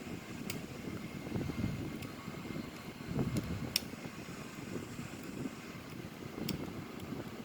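An Airbus A340-313 airliner climbing past 23,000 feet, heard as a steady low rumble and wind-like roar with faint occasional clicks, continuous and moderately quiet.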